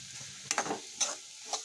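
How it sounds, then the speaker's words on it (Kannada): Chiroti rava (semolina) being stirred and fried in a pan for kesari bath gives three short scraping strokes about half a second apart, with a faint sizzle beneath them, close and fairly quiet. "ಸ್ಮೆಲ್ ಹೋಗು ತನಕ ಅದನ್ನು ಫ್ರೈ ಮಾಡಿಕೊಳ್ಳಿ."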